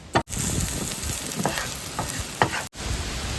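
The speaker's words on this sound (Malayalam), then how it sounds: "ഇഞ്ചി, വെളുത്തുള്ളി ഇത് രണ്ടും പാനിലാക്കി ഇടുക. ഒന്ന് ചെറുതായിട്ട് ഇളക്കി കൊടുക്കുക." Ginger and garlic frying in a pan for a Kerala mackerel curry, a dense close sizzle with a few spoon scrapes as they are stirred, two brief cut-outs.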